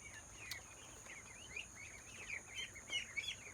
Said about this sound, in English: These birds we got from a hatchery as day-old ducklings